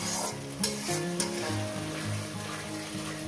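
Spice paste for a goat and potato curry stir-fried in a pan, a continuous close sizzle with steady scraping and stirring strokes, no voices.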